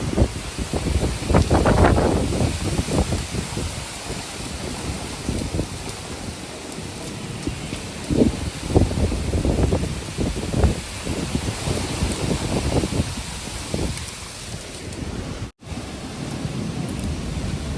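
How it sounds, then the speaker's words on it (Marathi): Heavy rain roars steadily with gusty stormy wind surging throughout, trees thrashing, broadband and loud, with occasional stronger bursts and no voices. "किती वारा सुटलेला आहे बापरे झाडं कशी करत आहे सगळं पडत आहे आणि पाऊस पण खूप जोराने आलेला आहे"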